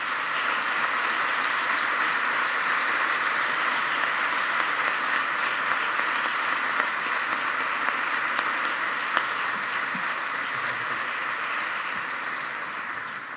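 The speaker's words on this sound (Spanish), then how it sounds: "Un aplauso, por favor." An audience at a ceremony in Spain marking 30 years of the Erasmus programme applauds in a sustained, even burst of clapping that lasts throughout and tapers slightly at the end.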